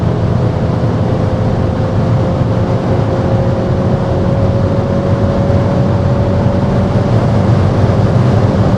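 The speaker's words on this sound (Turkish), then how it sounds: "Bayağı rüzgarlı." Loud, steady wind buffeting with a droning engine rumble in an open-top 258 hp BMW Z4 G29 at speed, constant and close, with no talking.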